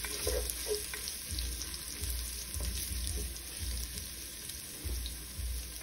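Ginger sizzles and fries steadily in a hot pan while being stirred for dinuguan, with a continuous close crackle and periodic scraping strokes of the spatula.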